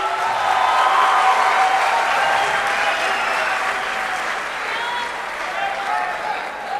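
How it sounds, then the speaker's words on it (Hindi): A crowd at a poetry recital applauds heartily for the poet, a dense, even wash of clapping that holds steady and eases slightly toward the end. "तहजीब भाई के लिए भरपूर तालियां हो जानी चाहिए।"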